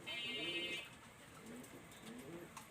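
Pigeons coo softly in a few low, rolling calls, quiet and close, with a brief higher chirp at the start.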